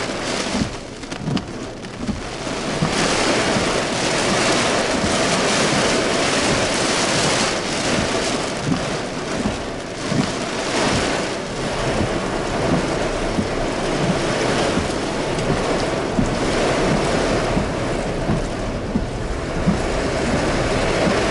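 Heavy rain with small hail pours down steadily during a thunderstorm in Prosper, Texas, a dense, loud, continuous hiss of drops and pellets striking surfaces nearby for the whole stretch, with no voices.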